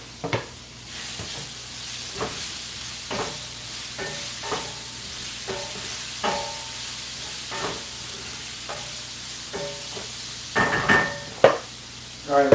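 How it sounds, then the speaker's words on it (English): Tofu scramble sizzling in a hot skillet, a steady frying hiss broken by repeated knocks and scrapes of a utensil stirring, with louder clatter near the end. "So now I'm going to take the tofu scramble and I'm going to put it in the skillet"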